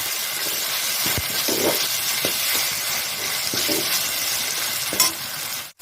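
Ingredients for a meal maker salna are sautéed in a pan with a dense, continuous sizzle and occasional soft knocks of stirring.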